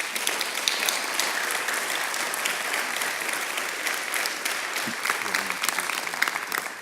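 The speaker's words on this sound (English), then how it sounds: "give them all a round of applause" An audience at an Earth Day celebration event claps for the speakers and a DJ, a dense, sustained round of applause from a sizable crowd that carries on steadily throughout with no speech over it.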